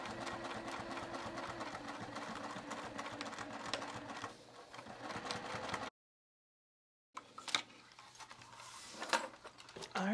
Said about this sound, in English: I'll just add a couple stitches just to give it a little extra strength.